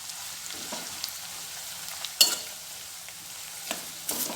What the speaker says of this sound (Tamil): இந்த எண்ணெயில் ஒரு கைப்பிடி அளவுக்கு முடக்கத்தாங்கீரையை இதோட சேர்த்துடலாம்.